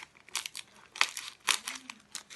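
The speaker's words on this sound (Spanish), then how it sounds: "Ahora cogemos las tijeras, cortamos" Scissors cut into a plastic bag of crushed Oreo cookies, giving a series of short, close crinkling snips and plastic rustles with brief gaps between them.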